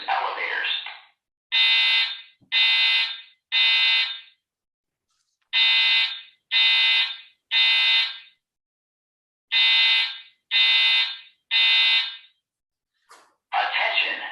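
A building fire alarm sounds in repeated groups of three loud, harsh electronic blasts separated by short gaps, with a recorded evacuation announcement voice starting at the end.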